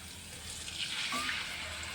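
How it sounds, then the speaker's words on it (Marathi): A soft, brief gush of water poured into a whisked yogurt mixture for kadhi, rising slightly midway over a low background hiss. "अजून थोडंसं याच्यात पाणी टाकणार आहे मी"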